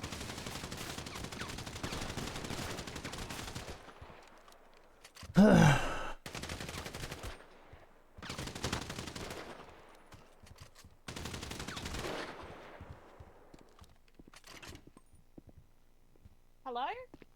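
Gunshots in GTA roleplay on the NoPixel server: several long stretches of rapid automatic fire broken by short gaps, mixed with grunts and game sounds, at a moderate level.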